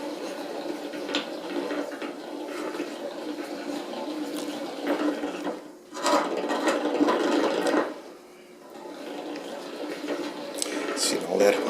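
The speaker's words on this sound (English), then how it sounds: "See, all that honey is splashing on the sides." A spinning honey extractor at a first-year flow frame harvest sends honey splashing against its sides, making a steady whirring, rattling churn that dips briefly midway and then builds again.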